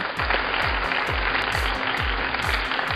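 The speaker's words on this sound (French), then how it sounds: "Peut-on l'applaudir, s'il vous plaît?" Applause for the winner of a cooking competition rises as a broad wash of clapping over a steady, thumping musical beat that runs through the whole stretch.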